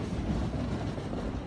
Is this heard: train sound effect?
yes